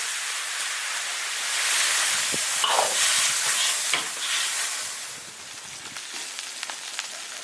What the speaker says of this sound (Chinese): 花椒、辣椒，放点酱油，炒香了加水